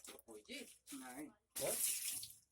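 Water rushes into a chicken plucking machine in a steady, close splash near the end, after a person speaks briefly in short bursts.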